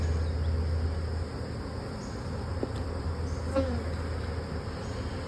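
Honey bees buzz inside a jar during a mite wash, a steady low insect drone that stays close and even throughout, with no talking.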